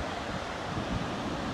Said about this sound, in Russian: И волны просто шикарные сегодня.